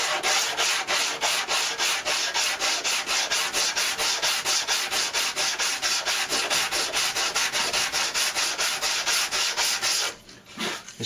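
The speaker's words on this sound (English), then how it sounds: "You sand that in and round the corner off slightly" Steady back-and-forth rasping of a sanding block rubbing wood veneer, smoothing and rounding a trimmed corner, continuous and close for about ten seconds before a brief pause near the end.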